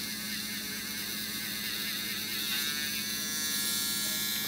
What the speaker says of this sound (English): You need a Dremel and you need Dialux Blanc.